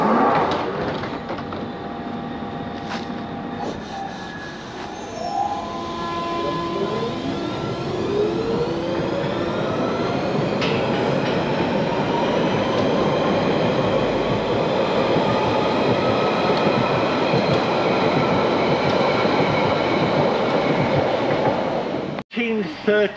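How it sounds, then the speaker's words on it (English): A London Underground locomotive, L11, runs at Epping Station on a heritage line, giving a loud sustained rail rumble with rising tonal whines and squeals, ending in a sharp cutoff near the close. "behind me is locomotive L11 with a restored signal"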